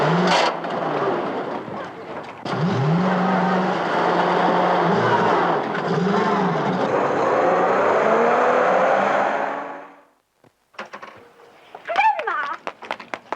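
An old car from the 1940s driven off, its engine revving and straining in rising and falling pitches for several seconds before fading to silence, followed by brief voices.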